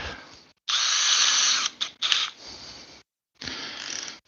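A strap-on drill run in reverse ratchets in loud, harsh mechanical bursts separated by short silences, close up with no talk.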